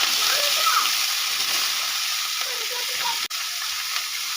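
Bathua greens hitting hot oil with fried garlic, a bright hissing sizzle that stays steady with a short break near the end, no talking.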